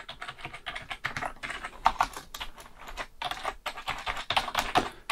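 Fingers type on a Trust GXT 830 rainbow gaming keyboard with spongy, non-mechanical keys, producing a quick, irregular run of soft clicks and taps, close and fairly quiet with no talking.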